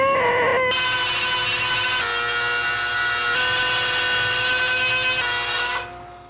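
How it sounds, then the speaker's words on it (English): A wood router spinning a straight bit whines steadily as it cuts away the bulk of the material, loud and sustained for several seconds before spinning down at the end. "to make things a little bit easier in my router, I'm gonna first remove the bulk of the material with this straight bit"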